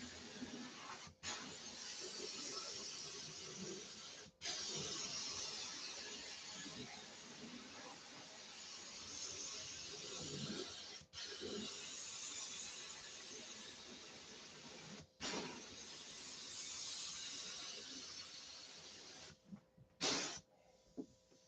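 A spray gun lays top coat onto a Tucker car in long, steady hissing passes broken by brief pauses, quiet and continuous with no talking.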